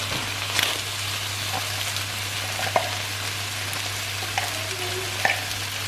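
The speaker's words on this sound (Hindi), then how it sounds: "और इसको वापस अच्छी तरह से भून लूँगी" Lamb chops fry in a pan with a paste of fresh ginger, green chili and garlic, giving a steady close sizzle with a few sharp crackles and stirring knocks under a low constant hum.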